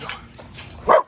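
An American Bully dog gives one sharp bark near the end, close by, after a few moments of quiet rustling.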